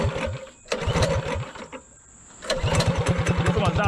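Minibike with a 212 engine and torque converter starting up: a short chugging burst catches, dips, then settles into a loud, rapid, rhythmic putter close by.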